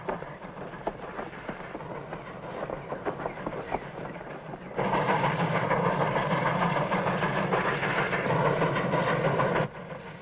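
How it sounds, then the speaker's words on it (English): A steam train rumbles steadily along with a rhythmic clatter, growing louder and fuller about halfway through, then easing slightly near the end; no voices. "Smokestack's rolling that train. No wonder they're making such good time."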